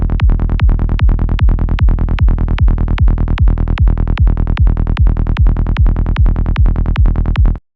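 Psytrance forest bass patch built in Serum with a low crossover setting: rapid, evenly spaced humming, rolling bass pulses repeating in a tight loop, loud and close, then stopping abruptly.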